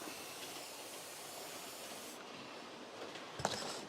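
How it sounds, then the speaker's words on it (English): Aerosol spray hissing onto model train scenery, a continuous close hiss lasting a couple of seconds, followed after a brief pause by a short second burst. "And then give it another spray."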